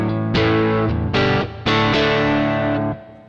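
Electric guitar with humbucker and single-coil pickups, strummed hard through a Tech 21 RK5 Richie Kotzen Flyrig analog pedal: loud distorted chords struck about four times, ringing out bright and gritty before cutting off.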